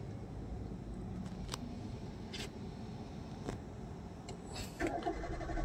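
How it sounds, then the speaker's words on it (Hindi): A car's self-starter cranks without the engine catching, a steady low whirring hum at moderate level with a few faint clicks, the air conditioning switched on. "आवाज तो आ रही होगी ना आपको सेल्फ की।"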